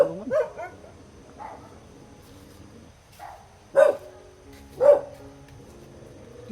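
A dog barks outdoors during a pig hunt: a few sharp, moderately close barks and yips spread irregularly over several seconds, with faint background noise between them.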